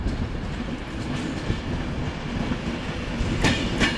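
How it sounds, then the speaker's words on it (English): An Avanti West Coast train from London Euston arrives at Manchester Piccadilly. It gives a steady, rumbling rolling noise with soft wheel clatter, and a couple of brief bright squeals near the end. "coming in now is going to be a terminating Avanti West Coast service from London Euston"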